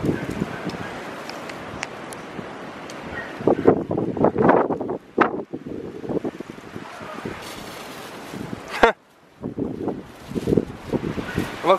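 Strong gusty wind of about 50 mph roars outdoors across an open microphone, surging and buffeting in loud bursts with brief lulls, while people talk and exclaim over it.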